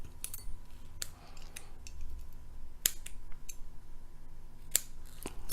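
Scissors snip through a cotton wick for a rebuildable atomizer, several sharp, close, quiet cuts spaced irregularly over a faint background hum.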